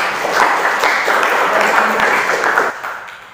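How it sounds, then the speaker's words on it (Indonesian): A school class breaks into applause, a dense wash of many hands clapping at once, loud and steady before tapering off near the end, with no clear voices over it. "Kasih aplaus."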